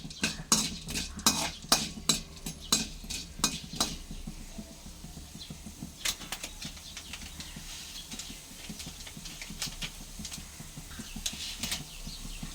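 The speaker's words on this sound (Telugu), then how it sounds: "ధనియాలు వేసుకొని చక్కగా ఫ్రై చేసుకుందాం." Coriander seeds frying in oil in a kadai, with sharp metallic clinks and scraping of a stirring spoon against the pan, busy at first and then settling into a steady faint crackle.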